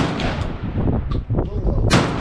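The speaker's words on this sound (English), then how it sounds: "So this one I'm going to try hip shooting." A Remington V3 TAC-13 shotgun fired from the hip at an outdoor range, heard as a loud blast with a rolling tail. Further sharp reports follow, one near the end.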